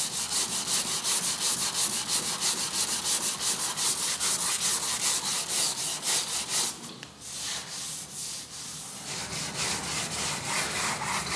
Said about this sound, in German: Auf den geschliffenen Grobspachtel folgt eine Schicht Feinspachtel, der von Hand geschliffen wird